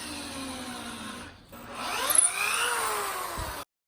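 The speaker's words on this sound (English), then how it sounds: "To join the pieces together, pre-drill holes into the wood" Power drill pre-drilling holes into wood for a square garden planter frame, a steady whining motor that dips briefly, then rises in pitch as the bit bites into the wood before stopping abruptly.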